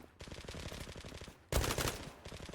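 An AUG rifle fires in rapid automatic bursts in the online shooter game Zula. The bursts are fairly quiet, with a louder, denser stretch partway through.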